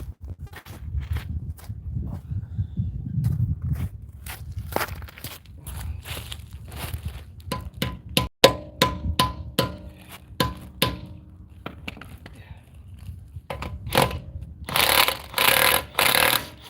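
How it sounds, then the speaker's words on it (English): Sharp metallic hammer blows drive a stuck brake rotor onto the front hub of a 2017 Ford F-150, in irregular bursts close by, with clanks and shuffling between them and a rapid flurry of hits near the end. "So it's not going on easy, so I'm gonna have to hammer this one on."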